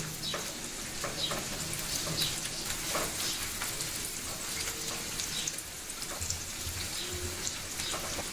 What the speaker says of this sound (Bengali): এই পেঁয়াজ দিয়েও আমি আরও 1 মিনিট সময় রান্না করে নেব।